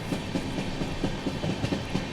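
A Goa Rajdhani Express train crawls slowly along the rails. Its wheels give a steady, rhythmic clickety-clack with soft regular thumps under a constant low rumble of the moving carriage.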